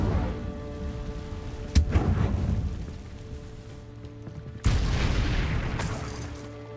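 A spell cast in the Hogwarts Legacy video game, two loud whooshing fire bursts that flare, roar and hang over a low droning music bed with a steady hum.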